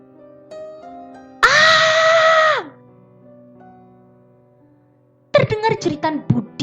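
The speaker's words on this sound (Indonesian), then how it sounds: "Terdengar jeritan Budi yang bergema di malam yang kelam itu." A man screams into a dark night, a single loud sustained cry of about a second that trails off, after which a voice starts speaking over a quiet background.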